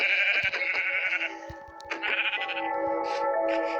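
Sheep bleat loudly and continuously, several overlapping wavering calls close by, with soft clicks underneath.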